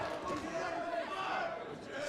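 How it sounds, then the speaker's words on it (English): Crowd at a pro wrestling event in Australia, a dense roaring wall of screaming and cheering fans, loud and sustained, with a commentator's voice over it. "This crowd is so loud. Everyone is screaming."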